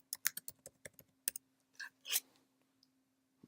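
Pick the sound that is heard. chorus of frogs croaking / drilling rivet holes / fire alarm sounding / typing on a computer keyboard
typing on a computer keyboard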